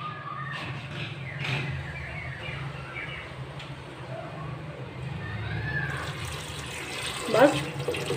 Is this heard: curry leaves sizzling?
no